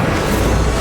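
An Incendio fire spell cast in Hogwarts Legacy. A brief, dense, loud burst of roaring flame and booming noise fills the whole short moment, with no pause.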